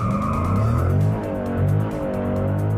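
2012 SRT8 drifting, its tires squealing loudly and steadily under a strong engine note, close and continuous for a few seconds.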